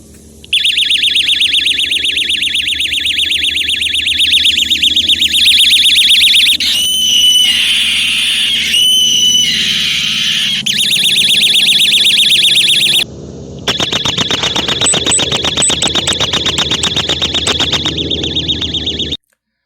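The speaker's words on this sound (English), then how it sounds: "So that horrible noise you heard was the siren" A pepper spray canister's piercing, high-pitched electronic alarm siren shrieks loudly and continuously, warbling, briefly cutting out twice before blaring on again.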